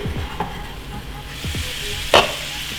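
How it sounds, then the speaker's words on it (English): Bison and chicken sizzle steadily in a frying pan, with scraping stirs and a sharp clink of a utensil partway through. "Good, nice sizzling sound."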